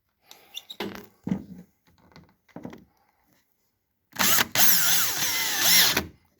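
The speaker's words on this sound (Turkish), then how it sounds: "Şimdi alta 2 tane vida atıyoruz arkadaşlar." A power drill drives screws into the frame of a cat fly screen. After a few light taps, a loud, close whir runs for about two seconds, with a brief break near its start.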